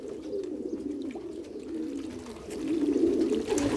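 Racing pigeons coo steadily in a low, soft murmur, fairly close, with the cooing swelling louder toward the end.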